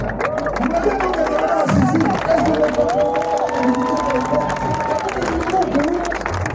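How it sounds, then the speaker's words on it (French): A large crowd at a church gathering in Bujumbura cheers and applauds loudly and continuously, with many voices shouting over dense clapping throughout. "Tous les Burundais acclament."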